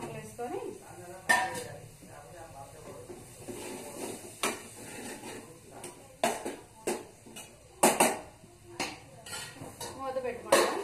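Tomato pieces and salt go into a cooking pan for tomato gongura curry, with repeated sharp clanks and scrapes of utensils against the pan, a loud knock or two, and faint background voices in a home kitchen.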